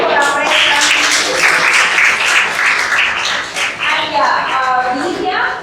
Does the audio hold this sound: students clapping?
yes